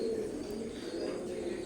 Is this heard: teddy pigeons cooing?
yes